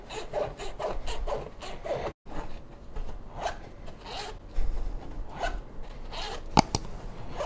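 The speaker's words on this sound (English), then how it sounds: "grab your zipper and just work it" A stuck zipper on a backpack or rucksack, freshly lubricated, is pulled back and forth in quick repeated rasping strokes. The zipping is close and fairly quiet, with short pauses between runs.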